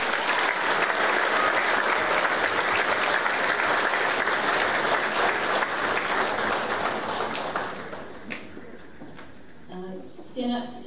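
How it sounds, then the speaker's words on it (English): An audience at a senior school prizegiving claps loudly and steadily for about eight seconds before the applause fades out, with a few scattered claps and bumps at the end. "Please give them a round of applause."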